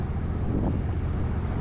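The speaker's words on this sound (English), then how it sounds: "I'm approaching a little too fast, but I don't want to slow down too soon in case the engine dies when I do." A small fishing boat's engine drones steadily as the boat nears a dock, a continuous low rumble blended with wind buffeting the microphone.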